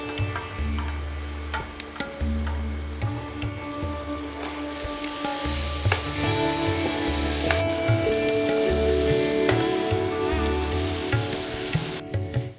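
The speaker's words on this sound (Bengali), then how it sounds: "এই সময় ততক্ষণ কপি দিয়ে রান্নাটি ভাজবেন যতক্ষণ না কপি আধ ভাজা হয়ে আসবে" Chopped cauliflower fries in a pan with softened tomato, a continuous crackling sizzle with spattering pops and a few clinks of utensils, loud and close.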